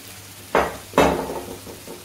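Water splashes into a pan of boiled, mashed pav bhaji vegetables, two quick pours a beat apart with a short trailing rattle, close and alone.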